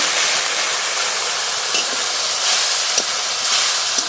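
Coriander and green chili paste sizzles in a hot pan after a splash of water, making a loud, continuous hiss with no talking.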